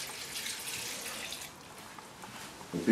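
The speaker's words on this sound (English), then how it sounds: "Put some water in here" Water runs steadily into a pot for Nigerian okra soup in a soft, hissing stream that thins out, then ends with a faint clunk.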